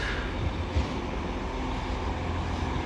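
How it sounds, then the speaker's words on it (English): A Northern class 195 two-car train from Leeds via Garforth arrives at platform 11 of York station, heard as a low, steady rumble of rolling wheels and engine hum without speech. "arriving in now on platform number 11 is a terminating Northern train service from Leeds via Garforth"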